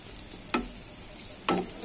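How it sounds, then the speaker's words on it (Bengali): Nigella seeds, dried chilli, garlic and onion fry in mustard oil with a soft, steady sizzle, broken by two brief stirring scrapes in the pan. "ভালো করে ভেজে নেব"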